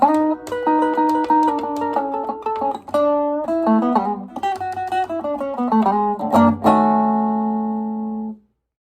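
Chicago-style blues turnaround on electric guitar, a clear single-note and double-stop run descending to a ringing final chord that sustains and then cuts off, played alone at moderate loudness with no talking.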